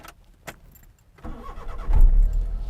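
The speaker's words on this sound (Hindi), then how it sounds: "गाड़ी होगी स्टार्ट" A Suzuki Mehran VXR car starting: a few faint clicks and quiet handling sounds, then the starter cranks and the engine catches into a loud, low rumble close by.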